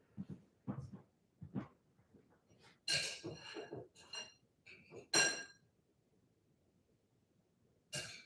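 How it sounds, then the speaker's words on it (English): Dogs in a home workshop make short whimpers and soft vocal bursts, then several sharper whines and yelps in quick succession, fairly close, with quiet gaps between. "My dogs are wondering if I'm okay."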